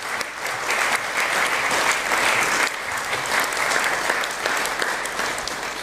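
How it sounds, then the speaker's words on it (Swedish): Sustained, loud applause from a seated audience at a Swedish panel event on church and politics, greeting two guests as they come onto the stage; dense, even clapping with no talk over it. "Vi ger dem, tycker jag, en rungande applåd."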